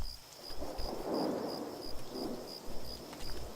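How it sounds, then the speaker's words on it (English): Thunderstorm in the video game Craft the World: steady rain hiss with low rolling thunder rumbles swelling twice, plus a repeating high electronic beep running throughout. "Thunderstorm."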